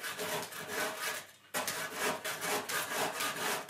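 A hand saw cuts through wood while a new studio is being built. Close, rhythmic rasping strokes pause briefly partway through, then resume at a steady back-and-forth pace.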